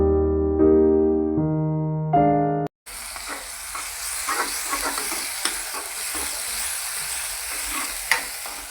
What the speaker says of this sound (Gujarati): આપણે ડુંગળી અને લસણ ને મરચાં નાખી દીધા છે ફાઇનલી